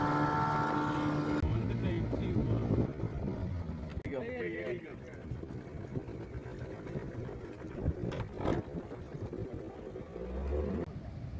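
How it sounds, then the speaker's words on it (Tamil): Engine drone of a motorboat pulling away from a small sea island, a low steady rumble that fades and shifts, with people talking over it. "தீவில் எங்களை இறக்கி விட்டுட்டு படகை எடுத்துகிட்டு போயிட்டாங்க"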